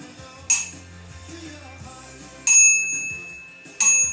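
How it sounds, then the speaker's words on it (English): Bell on a child's tricycle rung three times, bright metallic dings with ringing tails, each spaced a couple of seconds apart, alone over faint low background noise. "Oh, you got the bell"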